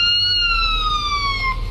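An ambulance siren wails loud and close in the police patrol game Police Simulator: Patrol Officers, a steady falling electronic tone over low engine rumble with no talk.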